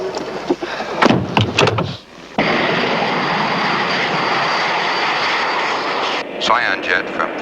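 Jet aircraft engine noise fills the scene as a steady broad roar heard from inside the cabin, preceded by clunks and brief talk, continuing evenly for several seconds.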